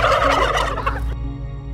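Turkeys on a small turkey farm in Darabani let out a loud, close burst of gobbling that fades into a quieter hum of the barn within two seconds.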